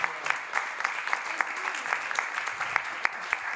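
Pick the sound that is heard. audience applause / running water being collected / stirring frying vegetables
audience applause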